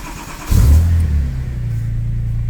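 A Porsche 996 Turbo engine cranks and fires up close by, flaring into a brief rev and then settling into a deep, steady idle.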